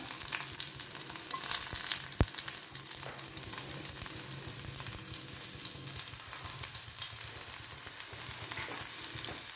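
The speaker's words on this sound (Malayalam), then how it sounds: "ഇനി നമുക്ക് കൊച്ചുള്ളി ഇട്ട് കൊടുക്കാം." Small onions (shallots) frying in hot oil with mustard seeds for a beans and carrot mezhukkupuratti, a steady close hiss and crackle of frying throughout, with one sharp click of a utensil and no talking.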